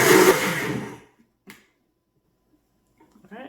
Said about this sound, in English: Put the lid on real good and blend.